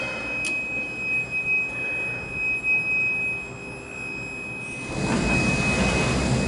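A Kone/MCE hydraulic freight elevator with a 12,000-pound capacity at a shopping mall hums steadily during the ride, with a high whine, before a louder rumbling surge near the end as the heavy doors move.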